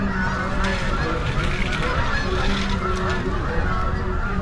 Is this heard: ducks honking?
yes